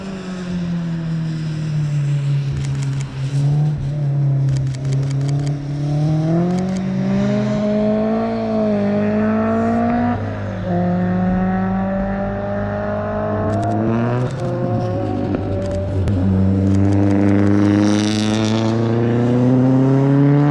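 Race cars roar past at a racetrack, a loud continuous engine drone with rising and falling pitch as cars accelerate and pass close by, with no speech.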